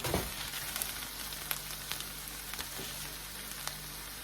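Ground turkey and chorizo frying in a pan for homemade chili, giving a steady close sizzle with scattered crackles and pops, no voices.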